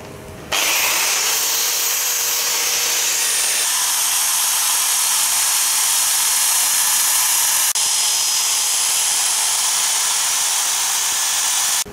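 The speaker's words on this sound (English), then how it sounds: "So finally I'm done with the sanding and now it's polishing time." A power polisher works on car tail lights with a loud, steady high whine that holds unbroken almost from the start, with no talking over it.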